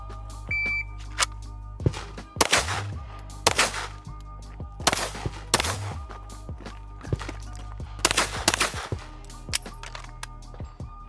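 Sharp pistol shots from a Taurus G3 ring out in a competition shooting stage, a handful of loud isolated cracks spaced a second or two apart over a steady low hum, with timer beeps and little talk.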